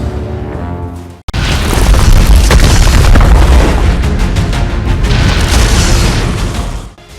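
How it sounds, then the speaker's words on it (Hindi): Gunfire during a clash in Nuh is heard as a loud, sustained roar of booming bursts that continues for several seconds, distorted and close. "फायरिंग की आवाज आ रही है"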